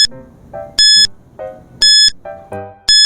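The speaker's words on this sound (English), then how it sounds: "Timer starts now" Repeated electronic countdown beeps from a quiz timer, bright tonal bursts recurring about once a second in a steady rhythm over a softer melodic backing, loud and close with no talking.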